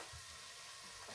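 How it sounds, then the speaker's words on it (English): Onions frying in a pan for pork and potato vindaloo, a soft, even sizzle with faint crackles, quiet and steady with no talking. "while the onions are frying there"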